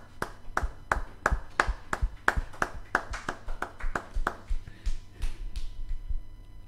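A church congregation at an evangelical service claps in a steady, rhythmic beat. The sharp, close handclaps come a couple of times per second, then slow and thin out toward the end.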